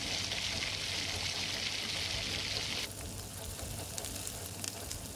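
Square-cut onion and capsicum fry in a pan for kadai paneer with a loud, dense hiss that suddenly drops to a softer steady sizzle partway through.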